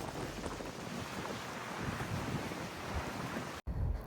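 Strong wind roars across the microphone at a choppy beach, a dense, continuous buffeting with surf mixed in, briefly cutting out for an instant before resuming.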